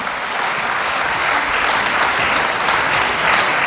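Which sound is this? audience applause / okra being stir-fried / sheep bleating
audience applause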